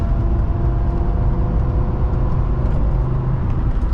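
A 1981 Mercedes-Benz 300SD accelerates at highway speed, its steady low engine drone and road rumble filling the cabin continuously and loudly, with no voices.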